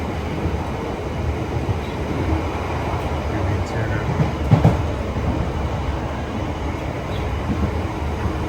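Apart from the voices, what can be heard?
London Underground Piccadilly line train running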